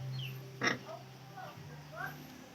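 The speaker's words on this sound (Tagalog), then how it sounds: "Ito may baboy sila, nanay." A pregnant pig on a farm gives a couple of short, low grunts, fairly close and fairly quiet, with soft voices and other farm noise in the background.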